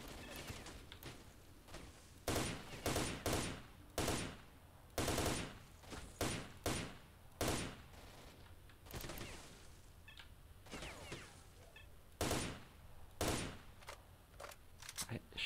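Gunfire in the video game S.T.A.L.K.E.R.: Shadow of Chernobyl: sharp shots and short bursts crack out repeatedly over about fifteen seconds, loud and irregularly spaced, with quieter gaps between volleys.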